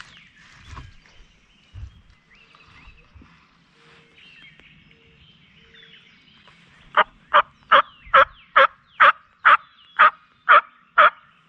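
Wild turkey gobbling in spring woods in Ohio, a rapid run of about a dozen sharp rattling notes that comes in late and stands out clearly over quiet woodland ambience.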